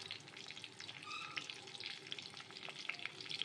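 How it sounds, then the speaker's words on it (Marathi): Green chillies sizzle in hot ghee with crackling cumin seeds during a tempering for dal, a steady close frying hiss with light popping throughout. "लगेच हिरवी मिरची घालून घ्यायची आहे।"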